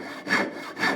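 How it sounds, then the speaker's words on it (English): A small dovetail saw, a type of tenon saw, cuts wood clamped high in a vise, so the work vibrates. Two close, rasping strokes with a short pause between them, loud and without talk. "I'm going to take my dovetail saw, which is just a small tenon saw,"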